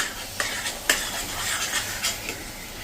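Soaked wheat ponk powder being mixed in a pan, with a spoon scraping and stirring through the grains over a soft sizzle, including a few sharp clinks against the metal, close and steady with no voices.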